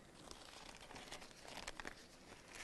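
A plastic fenestrated drape being folded back at the corners while preparing for urinary catheterization, a steady soft crinkling and rustling of plastic, close and continuous, faint overall.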